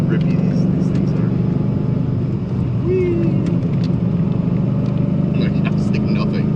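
A car is driven hard through a series of corners, its engine and road roar loud, close and steady throughout with no break.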